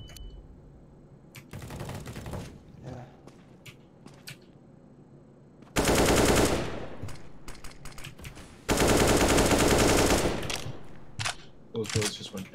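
Counter-Strike: Global Offensive gunfire, with scattered single shots followed by two long, loud bursts of automatic fire, plus quieter shots and clicks in between.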